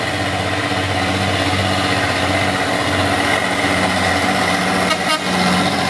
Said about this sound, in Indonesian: Beraksi si dump truk.